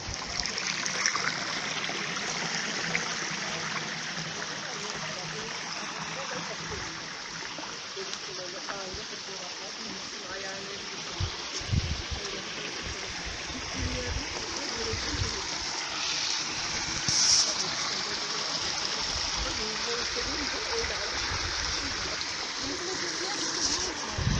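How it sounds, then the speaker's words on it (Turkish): A mountain stream flows steadily at Suluyayla in Kahramanmaraş, a continuous bright rushing with small splashes, close and even throughout. "Bu taraftan normal su akıyor."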